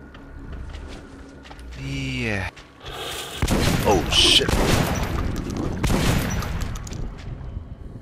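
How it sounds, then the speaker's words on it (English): Gunfire in the video game Metro Last Light, a burst of loud booming shots and thuds following a rising tonal sound, with a person talking over the game. "Oh, gunshots."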